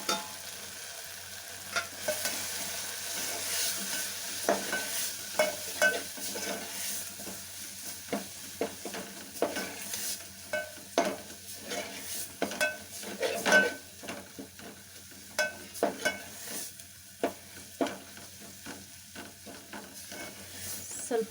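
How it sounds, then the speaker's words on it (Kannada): Tomato and spice powders including turmeric fry in a pan, a steady soft sizzle broken by frequent scraping and stirring clicks of a utensil against the pan, close and moderately loud, with no talking. "ಈ ಟೊಮೆಟೊ ಇಷ್ಟು ಫ್ರೈ ಆಗಿದೆ."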